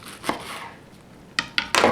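A knife slices through cabbage on a cutting board: a few sharp, close chops, one early and then a quick cluster of three near the end, with quiet gaps between.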